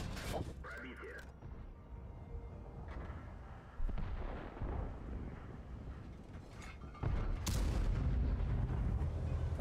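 Tank cannon shells firing in a tank video game, a few heavy booms spaced by long reloads amid a low rumbling battle background, with one louder blast near the end.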